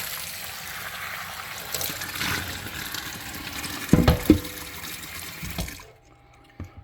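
Running tap water rinses soap out of a pan in a sink, a steady close splashing wash with a few louder sloshes near the end before the flow cuts off abruptly. No one speaks.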